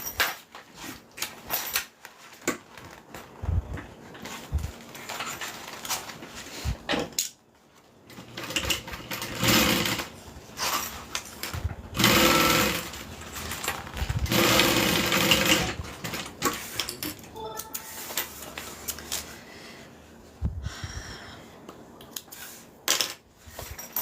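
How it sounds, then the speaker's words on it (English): A sewing machine stitches through layers of fabric on a train case, running in long steady bursts with brief pauses and small clicks between runs, close and fairly loud. "I'm also going to go ahead and sew up these layers right here."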